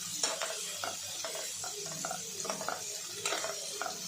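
Cauliflower for gobi manchurian fries in a pan with a low, steady sizzle, broken by repeated scraping and clinking as a spoon stirs against the metal, close and moderately quiet.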